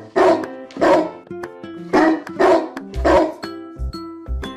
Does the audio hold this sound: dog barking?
yes